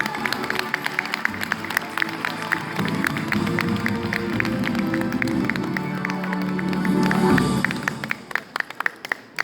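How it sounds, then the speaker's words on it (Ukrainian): An audience at a Ukrainian song competition claps steadily for several seconds, a dense wash of applause with a murmur of crowd beneath, swelling slightly before tapering off. "Ваші оплески."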